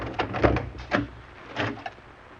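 A locked door down in a dark cellar hall is worked open: a few separate knocks and rattles of the lock and door, close and moderately loud, spaced out over a couple of seconds with no voices.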